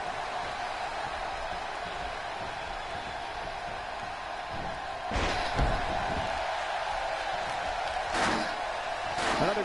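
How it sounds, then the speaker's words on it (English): A basketball arena crowd in NBA 2K16 at a St. Louis game makes a steady, distant roar, broken by a few sharp thumps and rising swells of cheering. "Another great crowd here in St. Louis"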